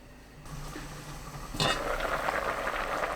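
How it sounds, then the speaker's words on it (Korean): A pot of kimchi stew, with onion just added, simmers close by, giving a soft bubbling that grows louder partway through, as if a lid or the heat shifts, with no talk. "양파 넣고 뚜껑 닫아 중불로 3분 더 끓입니다"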